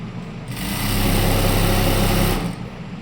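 Sewing machine stitching along the middle of a belt to widen it, a steady loud motor hum and rapid needle rhythm lasting about two seconds, starting and stopping abruptly with quiet before and after.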